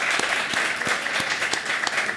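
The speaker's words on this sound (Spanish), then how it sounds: "un aplauso para mi amigo Lío Ger." Audience applause at a Spanish-language comedy show, with sharp individual claps standing out over a dense wash of clapping that stays close and even throughout.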